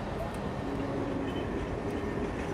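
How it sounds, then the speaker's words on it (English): Orient Silk Road Express train pulling out of Samarkand station, a steady broad rumble of wheels and carriages rolling continuously at close range with no pauses. "After 2 days of sightseeing, the train sets off again"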